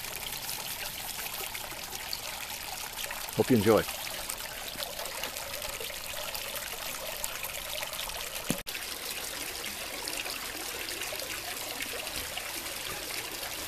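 A garden water fountain trickles in a steady, continuous wash of splashing water, with a brief voice heard once partway through.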